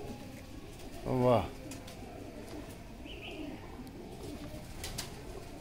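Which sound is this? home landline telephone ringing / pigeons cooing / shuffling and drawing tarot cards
pigeons cooing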